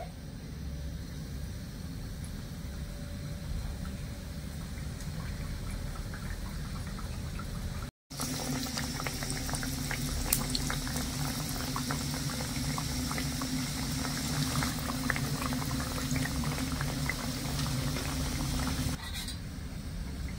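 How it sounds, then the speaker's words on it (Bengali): Nimki dough pieces deep-frying in hot oil, a dense bubbling sizzle that swells after a short cut, steady and close throughout with no voices. "এবারে আমি নিমকিগুলো ছেড়ে দেবো তেলের মধ্যে"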